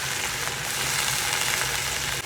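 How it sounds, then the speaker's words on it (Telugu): Chopped onions frying in a pan, a steady close sizzle with soft crackling that holds evenly throughout, with no talking. "ఇది ఆనియన్స్ చిన్నగా కట్ చేసి వేసింది అన్నమాట. అది కొంచెం సేపు ఫ్రై అవనివ్వండి"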